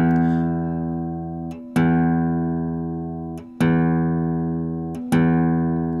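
Fender guitar tuner app plays a sustained reference tone for a guitar string, a steady harmonic pitch restarted three times at roughly even intervals, each note slowly fading before the next begins; no talking.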